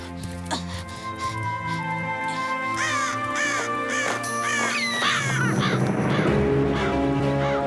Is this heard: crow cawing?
yes